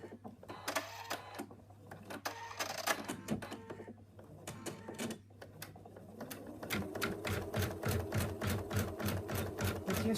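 An in-the-hoop embroidery machine stitches a basting placement line for fabric, its rapid rhythmic needle clatter steady and close, speeding into a fast even chatter toward the end, with no voices.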